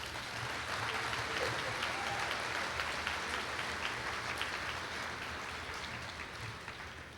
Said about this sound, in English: Can we get another round of applause for our presenters?